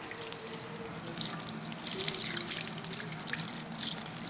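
Water runs steadily from a sink tap in the Denver Art Museum, a loud continuous hiss and splash with faint tonal hums from the pipes beneath it, alone without talk.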